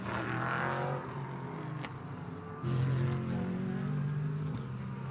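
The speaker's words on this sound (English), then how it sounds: "That Callaway Corvette rips through, then the Porsche and the two Astons." GT race cars, a Callaway Corvette, a Porsche and two Aston Martins, roar past in quick succession at Indianapolis, engine notes rising and falling as each car goes by, with no talk.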